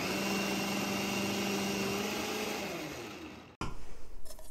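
A kitchen blender fitted with a grater attachment whirs loudly and steadily while grating food, its motor pitch easing slightly before it cuts off abruptly, followed by a few light clattering knocks.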